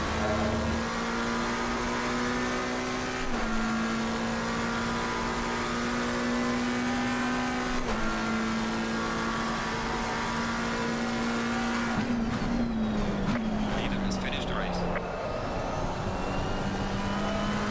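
Race car engine in Assetto Corsa Competizione at Monza, droning loud and steady through high gears, with brief upshift dips and a burst of gear changes and rev drops near the end before it settles again.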